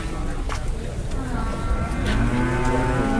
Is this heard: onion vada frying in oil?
no